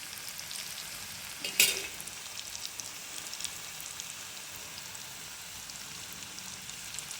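Red pumpkin fritters deep-fry in hot oil with a dense, close, rain-like sizzle and crackle, briefly jumping louder for a moment with a sharp splash, then settling back to a steady bubbling fry.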